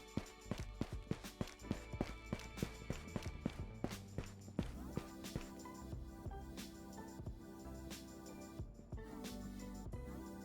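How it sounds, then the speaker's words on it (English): Footsteps in the shooter game Ghosts of Tabor, a run of rhythmic thudding steps, fairly close and sharp at first, then continuing more softly beneath dense in-game ambience and scattered clanks. "Got more footsteps, so I'm gonna wait a second."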